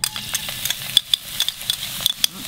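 Chopped garlic, four cloves, frying in coconut oil over medium heat for a red curry chicken with long beans, a close crackling sizzle broken by sharp irregular pops and stirring clatter.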